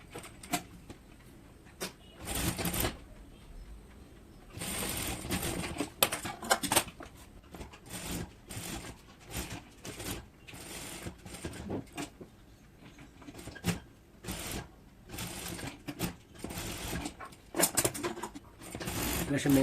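A sewing machine stitches a blouse, joining the main parts to the lining with a quarter-inch seam, running in short, repeated bursts of rapid stitching separated by brief pauses, close and fairly loud throughout.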